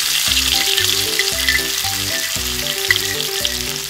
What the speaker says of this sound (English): Stir fry garlic and onion